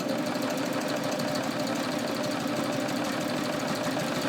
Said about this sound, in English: I'm gonna just start serging